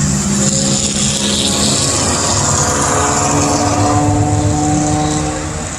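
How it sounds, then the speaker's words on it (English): Heavy roadside traffic, with trucks passing close, makes a loud, continuous broadband roar that holds steady throughout and eases slightly at the end, with no speech. "I'm getting an idea about all the traffic noise here."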